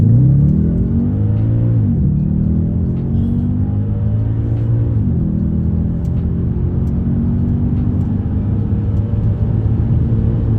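Audi S5 with a V8 engine and 6-speed automatic accelerating hard in sports mode, a loud continuous roar rising in pitch through two gear changes, heard from inside the cabin.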